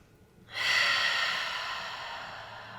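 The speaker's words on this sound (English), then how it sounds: "let's inhale deeply now a few times through the nose" One long, deep breath drawn in through the nose during a guided breathing exercise, starting after a brief quiet moment and then hissing steadily and close for a couple of seconds.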